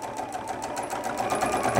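A sewing machine stitches fabric for an iPad case, giving a steady, rapid mechanical whirring and chatter throughout, close by and uninterrupted.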